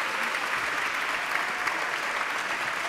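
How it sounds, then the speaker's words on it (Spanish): Audience applause at the opening ceremony of the 30th Valdivia International Film Festival, a steady dense wash of many hands clapping at once, loud and sustained throughout with no break. "Más aplausos, más aplausos."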